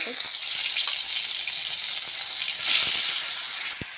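Chopped onion and tomato hitting hot oil with browned cumin seeds for a tomato chutney, a bright, loud, continuous sizzle close up, with scattered faint clicks of stirring and a swell midway.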